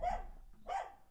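A dog on the other side of a closed room door gives two short, moderately faint barks about half a second apart, asking to be let back in.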